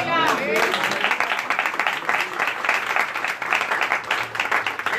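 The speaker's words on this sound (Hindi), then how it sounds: "ताली बजाओ" Congregation at a live Sunday worship service held out on a road clapping their hands, a dense, steady wash of clapping that follows a brief voice at the start and continues alone.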